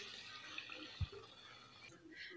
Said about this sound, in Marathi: आता मी हे शिजवून घेतलेलं मटण आणि त्याच्याबरोबर पाणीही याच्यामध्ये टाकून घेत आहे